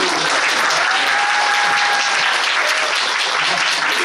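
A theater audience at a musical's final-performance curtain call claps continuously in thick, even applause, loud and unbroken for the whole stretch, with a faint voice just audible beneath it.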